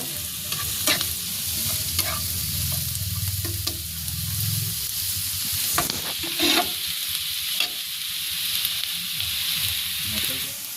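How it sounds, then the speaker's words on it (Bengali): Chopped onion and green chilli fry in oil in a village kitchen, a constant close sizzle broken by spoon scrapes and sharp stirring knocks against the pan, with no voices. "পেঁয়াজ কুচিটা দিয়ে দেবো আগে, পেঁয়াজটা আর লঙ্কাটা, কাঁচা ঝাল। আমি পেঁয়াজটা একটু ভেজে নেব।"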